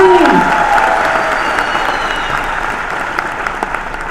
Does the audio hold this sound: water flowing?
no